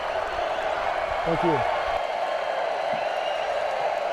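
Stadium crowd noise in the video game NCAA Football 2025 at East Carolina vs Coastal Carolina, a broad, steady roar of cheering with applause textures beneath, while a commentator's voice speaks briefly over it.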